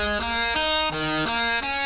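Arpeggiated long synth chords made in FL Studio, a bright buzzy tone stepping through sustained notes in an even rhythm, loud and up close.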